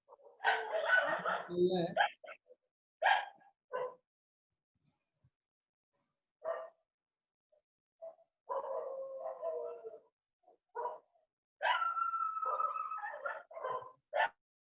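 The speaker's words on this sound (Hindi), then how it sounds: "कुत्ते उत्ते की आवाज आती है" During an online physics class, a dog barks on and off in the background. The barks are quiet and come in scattered bursts amid gaps and faint talk.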